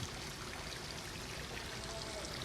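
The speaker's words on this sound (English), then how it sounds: "there's this cool wall that has the water dripping down it" Water trickles steadily down a wall at an authentic Japanese koi pond in Osaka, a continuous soft splashing wash with no voices.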